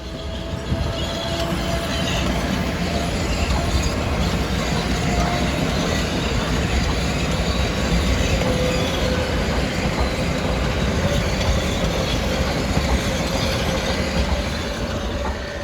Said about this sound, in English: Should have train 847 to Poughkeepsie coming very, very shortly.